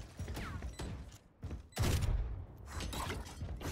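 A flashbang grenade goes off in a video game, a loud burst with a heavy low thump about halfway through, set among other gunfire and game noise.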